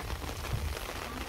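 Steady rain pours down over a rice paddy where seedlings are being pulled for transplanting in cold weather, a dense continuous hiss with low patter, close and loud, no voices.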